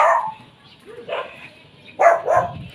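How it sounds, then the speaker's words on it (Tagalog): A dog barks a few sharp times nearby, outdoors, with short gaps between the barks. "May aso pala doon."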